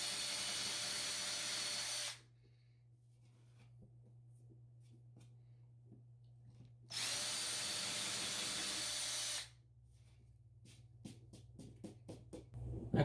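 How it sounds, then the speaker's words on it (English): A power drill bores a hole into a workbench in two loud, steady bursts of about two seconds each, with quieter handling and clatter in between and afterward. "so now the hole is drilled."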